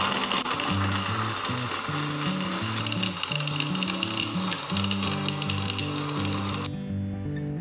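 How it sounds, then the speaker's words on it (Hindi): A blender jug whirs steadily with cherries, sugar and water inside, a loud continuous grinding roar with rhythmic music underneath that cuts off abruptly near the end. "अब जग चलाएंगे हम।"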